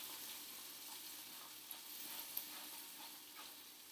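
Anchovies and garlic fry in a pan with a faint, even sizzle and occasional soft stirring clicks, heard at a distance with no talking.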